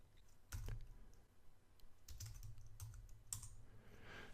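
Computer keyboard keys tapped while a terminal command is entered, a few soft separated keystrokes and a short burst of clicks, quiet and close with no talking.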